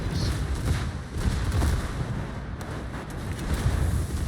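Torpedoes launching and striking ships in the naval game World of Warships: continuous low, rumbling booms and muffled blasts under steady wind-like noise, with a few sharper hits near the end.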